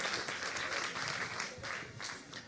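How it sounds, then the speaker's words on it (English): An audience at a summer party gives a steady round of applause, dense clapping filling the room throughout at moderate volume. "Let's give Emil a huge round of applause, guys."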